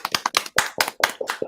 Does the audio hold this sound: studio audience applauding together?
yes